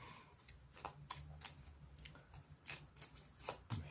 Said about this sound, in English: so let me shuffle the cards.